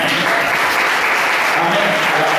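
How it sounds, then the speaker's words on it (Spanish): Loud, sustained applause from a church congregation during a sermon, a thick continuous wash of many hands clapping, with voices blended faintly into the crowd noise. "Dale un aplauso a Dios."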